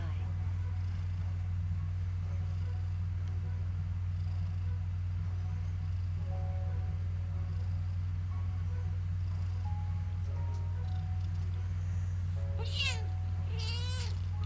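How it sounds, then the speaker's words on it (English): A kitten meows several times late in the passage, sharp high cries over a steady low electrical hum, fairly faint and distant in a quiet room. "there's so much screaming kitten tonight"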